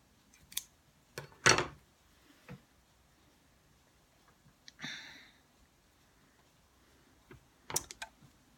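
Scissors snipping a sewn-on feather off a catnip fish toy: a few sharp, close cutting clicks scattered among quiet handling noises and silence.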